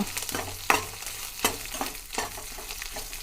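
Garlic and basale greens frying in a pan for basale saru give a close sizzle broken by several rhythmic stirring scrapes.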